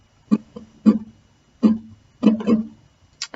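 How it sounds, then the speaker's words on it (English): Strummed chords in a simple down-down-down-up pattern, likely on acoustic guitar: a handful of short, close strums in a loose rhythm over a few seconds, with no talking. "Now the strumming pattern is very simple, and it sounds like this."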